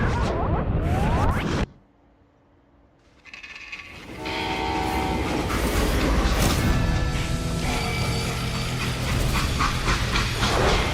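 Train noise in the Western game Call of Juarez Gunslinger: a loud rumble and rattle cuts out briefly near the start, then returns as a steady rolling drone with horn-like tones layered on top.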